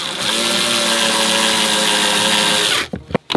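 A power drill drives a plain deck screw into a small pilot hole on a DIY kayak fishing rod holder, with a loud, steady whine that holds for nearly three seconds and then stops, followed by a couple of short clicks.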